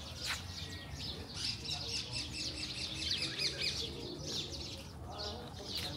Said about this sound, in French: il y a un perroquet qui était venu sur le mangeoire